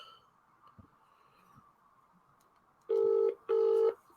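Two short telephone keypad dialing tones sound in quick succession, loud and close, after a few seconds of quiet background hum with a couple of soft clicks.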